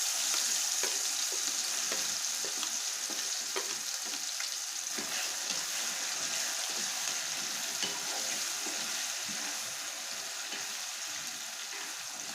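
Freshly ground curry paste for a village-style ponnaganti leaf charu fries in a hot pan, sizzling steadily while being stirred, with soft scraping strokes throughout and no voices.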